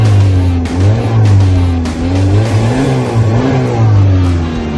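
Car engine revved repeatedly after a throttle body install, loud and close, with rising and falling engine tones in several throttle blips and no talking.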